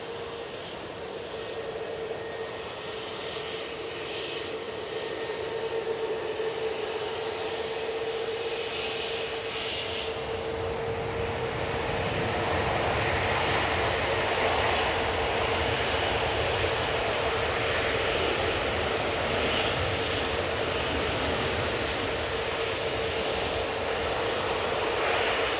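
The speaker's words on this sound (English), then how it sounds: "That was nearly as good as the A330. What a display there from the Zhun Yao." A Juneyao Airbus A330 at Manchester Airport, its engines making a sustained broadband roar that builds gradually and stays loud, heard from outdoors at a distance with no speech.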